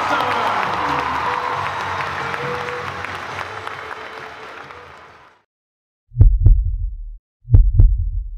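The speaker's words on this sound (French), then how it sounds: "Un tonnerre d'applaudissements pour Roxane Cherki-Palatat" A crowd at the pony derby of the Jumping de Bordeaux applauds and cheers a rider in a sustained burst that fades out after about five seconds, followed by a few heavy low thumps.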